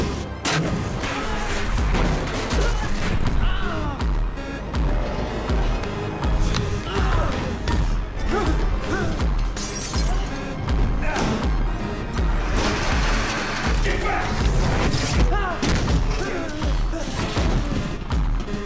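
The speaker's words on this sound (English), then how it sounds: "Meg successfully lit the lighter and an explosion occurred" Gas explosion in a movie scene after a lighter is lit, a dense, loud crashing roar with heavy booming impacts and debris-like clatter sustained throughout.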